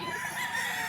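Gamefowl rooster crowing at a market, a brief loud, close crow with a strained nasal tone.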